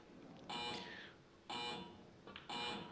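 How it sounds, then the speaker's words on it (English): A match shot clock at a professional pool tournament gives three evenly spaced electronic beeps about a second apart, quiet and clear against faint venue ambience. "if you hear the beeps on every shot here"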